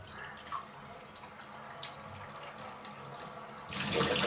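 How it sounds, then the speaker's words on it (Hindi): Tap water running and dripping into a container being filled to the top for a home water experiment, a steady faint trickle with scattered drips that swells into a louder gush near the end. "पानी बिल्कुल गिरने लगा है।"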